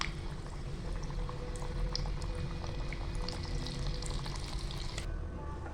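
Pinwheel samosas deep-frying in hot oil, a steady dense bubbling hiss with small crackles running throughout, close and continuous.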